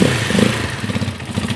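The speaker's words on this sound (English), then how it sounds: "Now we're looking for roughly 1500 to 1800 RPM is about a good idle spot." A Janus 250 motorcycle engine idles close by, a steady low throbbing with rapid, even pulses and no voices over it.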